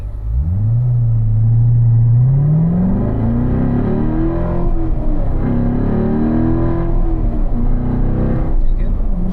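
A car engine rumbles loudly inside the cabin, rising in pitch as the throttle is blipped to match revs for a heel-toe downshift, then holding a steady drone with some wavering, while people talk throughout.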